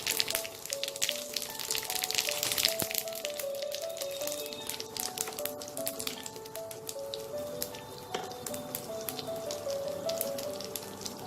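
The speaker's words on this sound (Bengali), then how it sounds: "এবার এই তেলে ফোড়নটা দিয়ে দেবো, সাদা জিরে আর তেজপাতা।" Cumin seeds and bay leaves crackle and sizzle in hot oil, a busy stream of small pops and spits over a steady frying hiss, close and fairly quiet.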